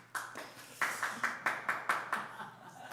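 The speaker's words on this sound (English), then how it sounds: "My first round of applause tonight." A few hands clapping in a slow, spaced rhythm at a regular council sitting, about a dozen distinct claps, moderately close and fairly quiet.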